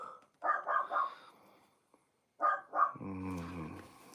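A dog barks in two bursts of several sharp, close barks each, separated by a pause, with a rough, growling edge that fades into a steady tonal sound at the end.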